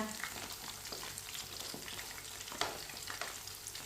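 Kebabs fry in a pan, a steady close sizzle with crackling pops and occasional scraping as they are turned.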